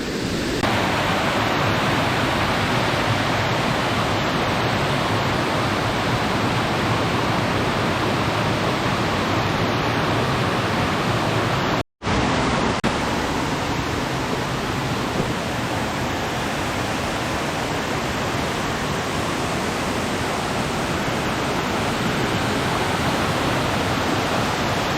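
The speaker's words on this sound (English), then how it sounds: "At the bottom of the third waterfall." A waterfall roars at the bottom of the third fall of a cascade, a loud, dense, unbroken rush of falling water close by, with a brief cut in the middle.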